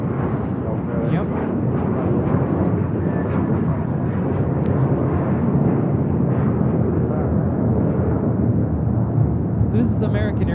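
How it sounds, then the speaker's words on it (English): An American Airlines A321 jet bound for JFK takes off with a sustained, heavy, rumbling roar that swells and holds throughout, with a few brief faint sounds near the end. "This is American Airlines Flight 32 taking off to JFK on an A321"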